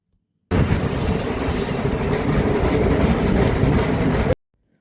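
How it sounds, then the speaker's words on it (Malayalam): The Ooty heritage mountain railway train rolls by close up with a steady, loud rumble and rattling clatter that starts abruptly and cuts off just as suddenly. "ഇന്ത്യയിലെ ഏറ്റവും വേഗം കുറഞ്ഞ തീവണ്ടിയാണ് ഇത്"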